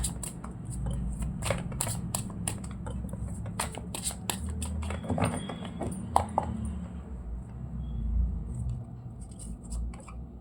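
Osho Zen tarot cards are shuffled and drawn by hand, giving quick riffling flutters and soft snapping card slaps in irregular bursts that go on for about ten seconds, close up against a low steady hum.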